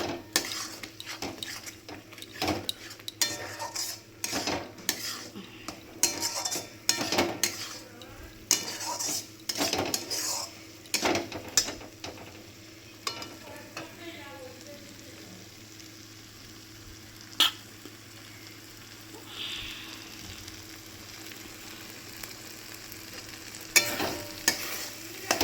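Spice masala being stir-fried in a pan before chicken goes in, with a steady sizzle under repeated scraping and clattering of a spatula against the pan, busy at first and then quieter.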